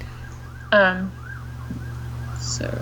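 Sirens wail outside, faint and distant, their rising and falling tone running steadily under a low hum, with a short burst of a nearby voice.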